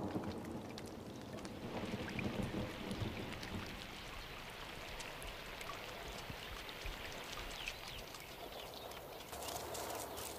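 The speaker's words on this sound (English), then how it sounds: "A late summer storm breaks Kalamiley's season of drought." A late summer thunderstorm soaks the Kalamiley steppe, with rain hissing steadily across the whole span and low rumbles underneath. No voices are heard.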